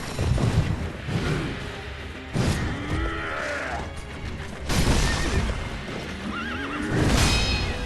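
A horse neighs loudly several times in the video game Sekiro, over a busy, cluttered background of clattering hooves and mechanical noise.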